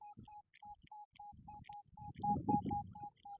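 Metal detector beeping a steady series of about a dozen short, evenly spaced tones over a buried coin-sized target during a dig, with low rumbling handling noise underneath that swells toward the end.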